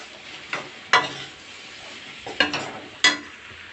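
Turmeric and chili powder are stirred into curry frying in a pan at home, with a steady soft sizzle broken by four or five sharp scraping clacks of the spoon against the pan, close and clear.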